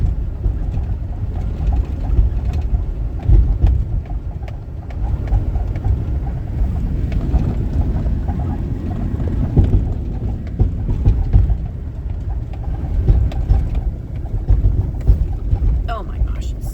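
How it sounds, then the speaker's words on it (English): A vehicle towing a big trailer across a bumpy alfalfa field, with a loud, continuous low rumble and jostling plus rattles and wind buffeting, sustained throughout. "Turn around and you can watch the bumpy drive as we go across the field"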